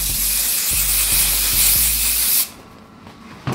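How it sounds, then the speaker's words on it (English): Aerosol olive oil hair spray hisses steadily into freeform dreadlocks for about two and a half seconds, close and loud, then cuts off, leaving a quiet room and a brief bump near the end. "Literally just spray it in my hair."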